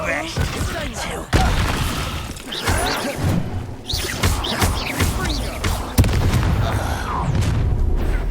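The Incendio fire spell is cast in Hogwarts Legacy, producing heavy booming blasts and crashing impacts amid a loud, busy battle, with voices speaking over the action.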